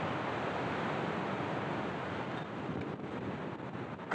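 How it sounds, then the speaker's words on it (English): Cold outdoor wind rushes continuously through a park in Montreal at sunset, a broad steady roar with slight gusting toward the end, buffeting the microphone; no voices. "Nice, cold, windy"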